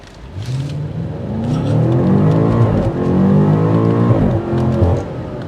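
A 2023 BMW M8 Competition Gran Coupe's engine revs up and roars as it accelerates hard in sport mode, rising in pitch through gear changes, loud and close.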